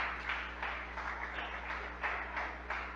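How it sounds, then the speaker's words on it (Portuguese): A church congregation applauds during a sermon, a steady, fairly faint wash of clapping with soft rhythmic swells that carries on without talk, over a low constant hum. "Se assenta aplaudindo Jesus, que ele merece"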